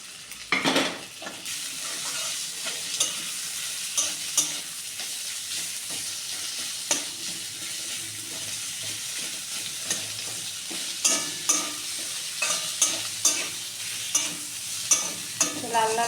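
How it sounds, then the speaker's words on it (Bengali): Sliced onions fry in oil in a pan with a constant loud sizzle, punctuated by a steady series of scraping spatula strokes as they are stirred, no speech. "এবার আমি পেঁয়াজ কেটে রাখা পেঁয়াজটা দিয়ে দিচ্ছি।"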